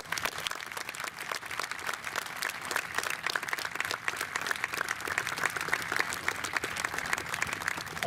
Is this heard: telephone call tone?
no